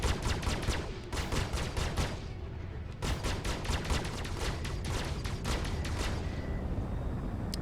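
Rapid bursts of video game gunfire crackle repeatedly in Star Citizen, in dense volleys with short gaps, mixed with booming explosions.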